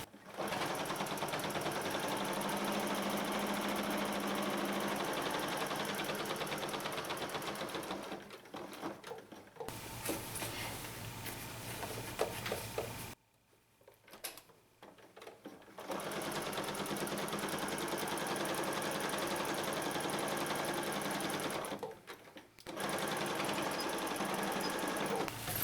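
A sewing machine stitches across the bottom of a purse made from blue jeans, running in long steady bursts with a brief pause partway and a short gap near the end.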